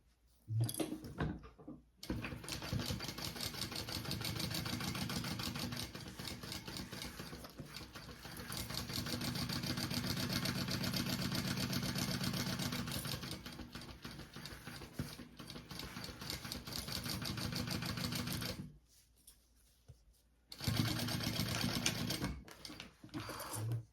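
A sewing machine bastes bag panels with a fast, continuous rattling hum, its speed rising and easing over long runs, broken by brief quiet pauses and a final short burst.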